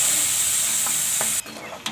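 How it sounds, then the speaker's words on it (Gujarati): Grated onion sautés in a pan for a potato and capsicum curry, giving a steady close sizzling hiss that drops off partway through, leaving faint stirring scrapes. "હવે આપણે એમાં ડુંગળી નાખી દેવું, ખમણેલી. થોડીક વાર આપણે આને સડવા દઈએ."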